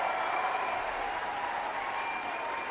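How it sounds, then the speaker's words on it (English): Elderly people clapping in a crowd, a steady dense patter of applause filling the whole moment without pause. "Old people clapping."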